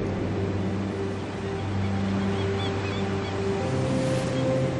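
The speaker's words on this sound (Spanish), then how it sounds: "Es el mar." Sea waves washing steadily with a broad, continuous surf roar and some wind, loud and even throughout, no talk.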